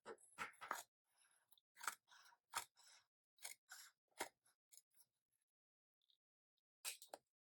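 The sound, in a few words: big scissors cutting journal paper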